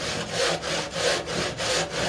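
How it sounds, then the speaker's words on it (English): A hand saw cuts through wood on an end table build, close, with rhythmic back-and-forth rasping strokes about every third of a second, each stroke a broad scratchy burst, with no talk. "then I'll start sawing down"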